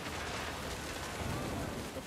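Heavy rain pours steadily in the video game What Remains of Edith Finch, a dense, loud wash of rainfall with a low rumble of thunder underneath and no speech.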